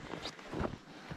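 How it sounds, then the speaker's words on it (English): A cold northwest wind of 20 to 25 mph gusts across an outdoor winter trapping site, a steady broadband rush buffeting the microphone close up with small surges. "And it is windy today."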